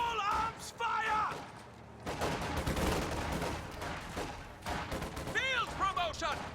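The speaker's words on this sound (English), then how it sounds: "Taking small arms fire!" Small arms gunfire in a World War II combat video game crackles in bursts and scattered shots, mixed with game sounds and shouted voices throughout.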